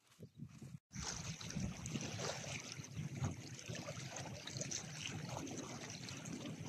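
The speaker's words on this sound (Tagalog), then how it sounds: "Lumalakas na uli ang hangin." Strong wind picking up outdoors at a camp: after a short dip, a loud, steady broadband rush and rumble buffets close to the microphone for several seconds, with no talking.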